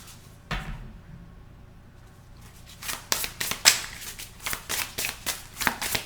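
A deck of tarot cards being shuffled up close, at first a soft steady rustle, then a run of crisp riffling bursts repeating in a quick irregular rhythm, no talk over it.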